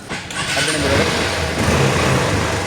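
A CB motorcycle in good condition starting up nearby: a short click, then the engine catches and settles into a steady, loud running rumble with slight revving.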